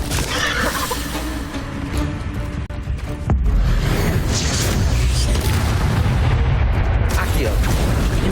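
Expelliarmus spell cast in Hogwarts Legacy, a loud magical burst that booms and then swells into a rumbling, sustained blast amid busy game noise.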